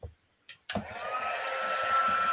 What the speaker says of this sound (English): forgive me while I do this heat embossing real quick